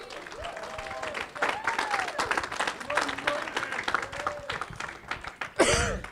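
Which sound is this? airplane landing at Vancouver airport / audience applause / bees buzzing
audience applause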